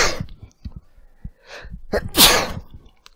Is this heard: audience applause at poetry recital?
no